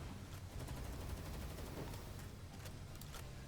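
An epic assault rifle firing in a video game: rapid, evenly spaced shots in a continuous stream, faint and distant-sounding, with no talking.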